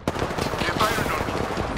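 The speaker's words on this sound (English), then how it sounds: "They're firing on me." Rapid automatic gunfire in the video game Apex Legends rattles out as a continuous, loud, close volley, with a voice briefly audible underneath.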